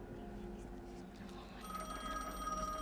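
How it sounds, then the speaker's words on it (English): A payphone rings in the video game The Medium, its electronic trill coming in partway through over a steady background hum, with a voice talking faintly underneath. "Phone is ringing."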